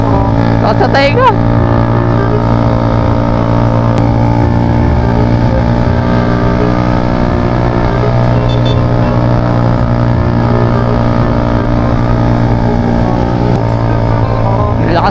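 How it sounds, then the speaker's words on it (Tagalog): Motorcycle with a loud aftermarket exhaust pipe running alongside on a road, a steady, close engine drone that stays loud throughout without a clear pass-by, with a voice talking over it. "Lakas ng pipe niya guys."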